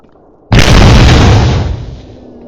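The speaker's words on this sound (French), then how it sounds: "on a entendu l'explosion de la nonne affichée" A single loud, sudden blast from the Evil Nun horror game, with a sharp onset into a broad roar that holds for about a second before fading, and no voices.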